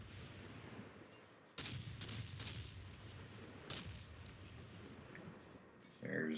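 Naval gunfire in a World of Warships ocean battle with the USS Mahan destroyer: two heavy booming salvos ring out a couple of seconds apart over a steady rumbling battle backdrop, with another burst starting at the end.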